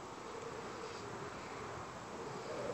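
Insect buzzing in a Minecraft game, a faint, steady hum that stays continuous for a few seconds with no talk.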